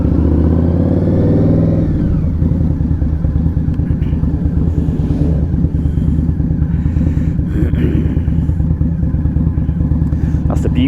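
An Indian Scout Bobber motorcycle rides close up as it passes cars on a UK country road, its engine loud and steady with a throbbing pulse and a brief rev near the start.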